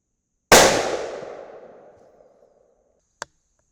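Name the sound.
rifle shots through a Silencerco flash hider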